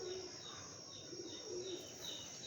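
Golden pigeons coo in soft, repeated low calls over a steady background hum, fairly faint and close, with no speech.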